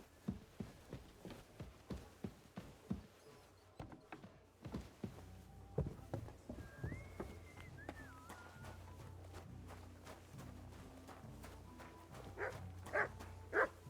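Dog barking in the medieval game Kingdom Come: Deliverance II, a steady run of sharp, fairly close barks with shuffling footsteps, then faint music and a few louder barks near the end.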